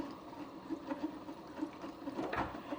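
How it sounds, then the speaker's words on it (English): Keurig K-Supreme coffee maker brewing a Lipton iced tea K-Cup, hot water streaming through the pod over ice in a steady, moderately quiet gurgling trickle with a few small spurts, no voices. "that water coming out from the K-Cup is about 160, 170 degrees, so it is really hot"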